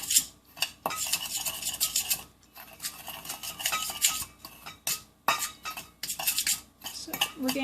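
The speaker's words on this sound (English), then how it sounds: "So now, I'm going to stir the spice mixes up." A spoon scrapes and clinks around a bowl while stirring Cajun spice mixes, a close, irregular series of metallic taps and scrapes with brief pauses.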